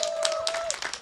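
Outdoor crowd at an Easter peace march in Brandenburg applauding a singer, brief scattered clapping with a sustained tone running beneath it.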